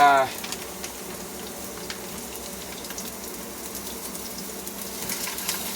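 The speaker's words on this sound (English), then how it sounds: "You can hear they're sizzling, so it's good time you can put them in." A steady sizzle of snack-size pierogies and red onions frying in a pan, constant and crackling, following a brief louder sound at the start.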